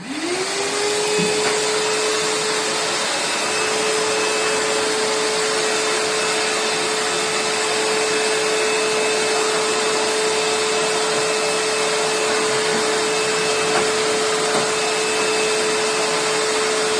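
A vacuum cleaner switched on and running steadily indoors during a home cleaning routine, a loud continuous whine with a rising start-up tone that settles into a constant drone.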